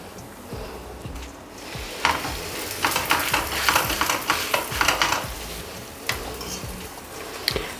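Flatbread frying in oil in a pan, with a close, crackling sizzle and irregular scraping and stirring clatter that builds louder midway.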